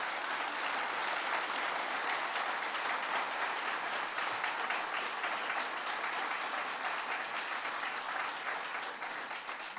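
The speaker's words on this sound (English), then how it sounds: "That's worth applauding." An audience at an early education summit where the US president speaks breaks into sustained applause, a thick continuous roar of many hands clapping at a steady level that eases slightly near the end.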